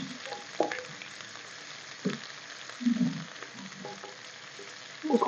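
Garlic ginger paste fries in a hot pan for an egg white korma, a steady soft sizzle broken by occasional scraping and stirring sounds, with no voices.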